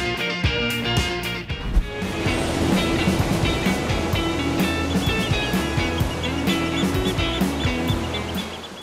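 Ocean surf on a quiet beach in Garut, a steady loud wash of breaking waves with continuous hiss and roar, no speech.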